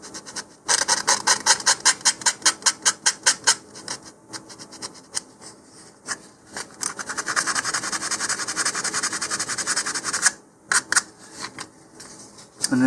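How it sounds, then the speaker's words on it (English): Hand sanding with sandpaper tucked into a tight, hard-to-reach spot near a leading edge: a run of quick, rhythmic rasping strokes, then a steadier continuous scratchy rub, close and fairly loud with no talking. "this gets a little bit harder to sand. Just kind of tuck the sandpaper in there."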